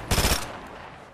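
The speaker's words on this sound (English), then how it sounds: "this SMG sucks" Submachine gun firing in a video game, a short rapid burst of loud close shots lasting under half a second, followed by a fading tail.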